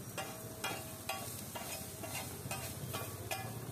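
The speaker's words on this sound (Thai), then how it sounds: "แล้วก็ผัดให้เข้ากันทีนี" Turmeric-yellow rice is stir-fried in a pan, with a quiet sizzle and a spatula scraping in regular strokes about every half second, faint and close, no voices.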